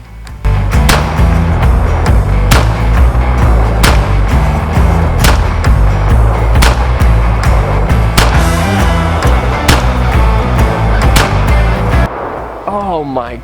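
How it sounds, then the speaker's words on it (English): Shots from a Smith & Wesson M&P .380 Shield EZ pistol fired at a target, loud sharp cracks in a steady series of about a dozen evenly spaced rounds, with ringing echoes between them before falling quiet. "I'm gonna shoot the target on the right and see if we could get any better results."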